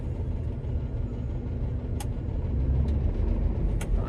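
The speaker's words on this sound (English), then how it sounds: "this machine's a lot more noisy than those other two machines, the 8600 and that Fendt" A Fendt Ideal 8T combine harvester runs in a bean field, a dense, steady engine and machinery roar close by with a few faint clicks and ticks over it, no talk.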